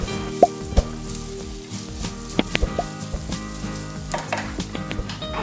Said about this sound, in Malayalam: ഇനി അതിലേക്ക് ആവശ്യത്തിനുള്ള ഉപ്പും ചേർത്ത് നന്നായി വഴറ്റിയെടുക്കണം